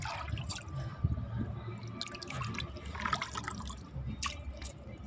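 Water is poured little by little into two buckets while preparing a plant fertilizer mix at home, with soft splashing and dripping over a low background hum, fairly quiet and close.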